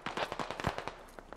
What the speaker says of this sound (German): da habe ich verschiedene Schüsse gehört